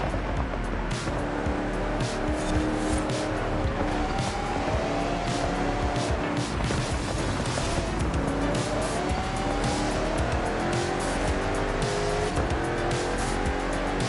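A race car driven from the cockpit view in a racing video game, the engine droning loud and continuous while revs rise and fall through gear changes, with tires squealing in the corners.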